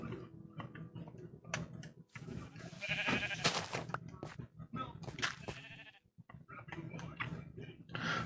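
Sheep bleat in the Minecraft video game, several short overlapping bleats scattered among clicking and tapping sounds, with a voice talking intermittently.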